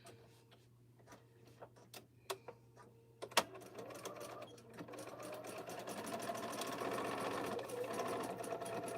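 A sewing machine back stitches a T-shirt quilt border, beginning with a few sharp clicks and ticks before settling into a faint, steady whirring run that builds and holds.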